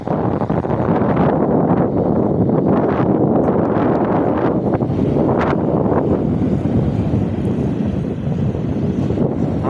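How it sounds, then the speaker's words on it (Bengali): Strong wind gusting across a city rooftop, roaring loudly and steadily into the microphone as a dense, rumbling buffet with no pauses. "তবে বাতাস বইছে অনেক।"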